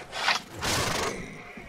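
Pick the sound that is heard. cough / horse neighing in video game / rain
horse neighing in video game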